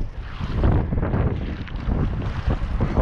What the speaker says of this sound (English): Oh, look at all that wind.